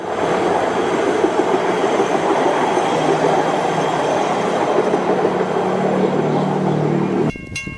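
Dual-purpose utility truck switched from tires to rail wheels running along the line, a loud steady rolling rumble with hum and faint wheel squeal, cutting off abruptly near the end.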